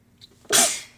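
One close, loud morning sneeze: a faint catch of breath, then a sudden explosive burst that fades over about half a second, with no voices.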